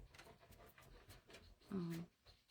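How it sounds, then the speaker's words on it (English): A dog panting close to the microphone in a rapid, breathy rhythm through most of the moment, with a louder burst near the end, partly under a voice. "sorry, I've got a dog here right now."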